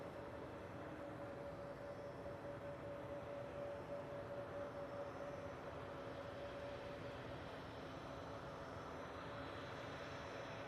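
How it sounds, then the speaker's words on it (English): A KLM Airbus A321neo jet at Manchester Airport gives a steady, distant engine rumble with a faint whine, low and unbroken throughout. "I can't say no to an A321neo"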